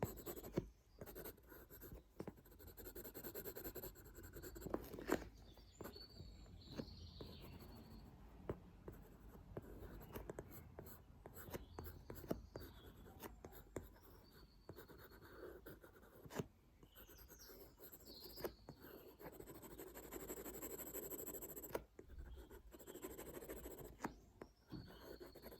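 Pencil sketching a dark suit on paper for a portrait drawing, soft continuous scratchy strokes and rubbing heard close and quiet, with irregular pauses between strokes.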